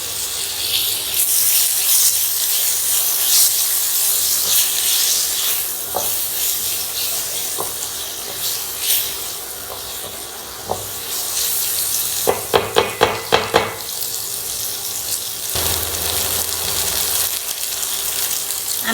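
Tomatoes and green chilies frying with onion, ginger and garlic for a chicken curry, a steady loud sizzle with a quick run of clattering stirs partway through.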